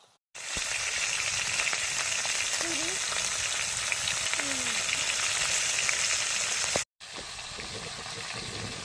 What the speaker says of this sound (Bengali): দেখুন সব মাছগুলো আমি একবারে দিয়ে ভেজে নেবো।